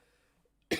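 A single sharp cough cuts in near the end, loud and close, after a stretch of near silence during a visual-effects software tutorial.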